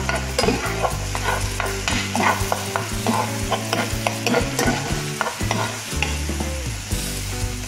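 Tomatoes crushed and stirred in a hot pan for an egg and tomato dish with sliced cheese, loud close sizzling with busy, repeated scraping and mashing strokes of a utensil.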